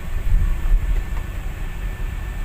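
A light rail train rolls past near an elevated LRT stop, a steady loud low rumble with rail hum and no talk over it.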